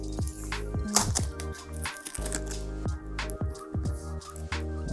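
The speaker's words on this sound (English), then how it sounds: "So to unbox is just pull off these small stickers here." Small stickers are peeled off a wooden product box, giving close, soft tearing and crinkly clicks in irregular bursts over a faint steady hum, with no talking.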